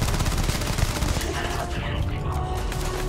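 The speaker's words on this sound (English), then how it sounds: "I'm getting shot from behind" Sci-fi gunfire in Starfield rattles in a dense, continuous barrage of rapid shots and impacts that stays loud and close the whole time.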